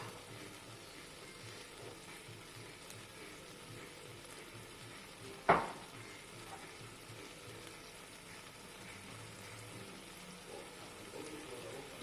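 Sauce poured into a pan of broccoli Manchurian, with chili and oyster sauces in the mix, sets off a soft, quiet sizzle with one brief sharp clatter midway.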